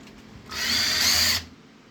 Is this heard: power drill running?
yes